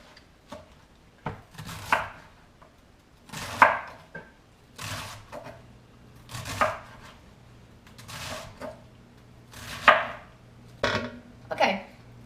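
A knife chops cabbage into bite-sized pieces for kimchi, about a dozen sharp separate strokes in an irregular rhythm, close and clear in a quiet kitchen.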